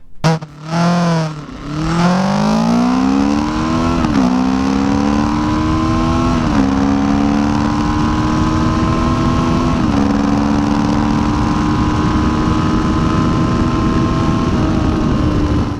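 A Kawasaki GPZ 900R Ninja motorcycle, liquid-cooled 16-valve 115 hp engine, starts, then revs repeatedly, its pitch climbing and dropping in loud, close bursts before settling into a steady high drone.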